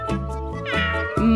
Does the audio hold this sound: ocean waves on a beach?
no